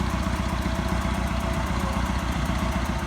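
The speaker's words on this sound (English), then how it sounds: "We'll see if we're turning the motor over any." A seized engine being freed is turned over by a starter, giving a steady, rhythmic cranking chug that stays close and even throughout without catching.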